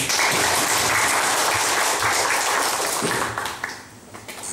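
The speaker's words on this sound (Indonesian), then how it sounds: "Aplaus untuk semua" Sustained applause from an audience at a school accreditation gathering, dense steady clapping that holds loud for about three seconds before thinning and fading toward the end.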